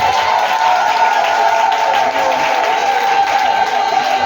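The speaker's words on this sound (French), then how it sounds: "de demander à toutes les femmes d'applaudir très fortement les missionnaires" Women in a church congregation applaud missionaries during a national men's missionary day service, with loud, continuous massed clapping and crowd noise filling the room, a steady tone running beneath it.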